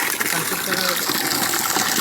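Muddy water from a tank gushes out of a water pipe in a loud, continuous rushing stream close by, while a person talks over it.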